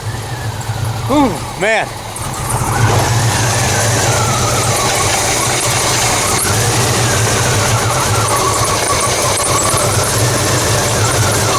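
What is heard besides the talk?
broken-down vehicle engine running again after repair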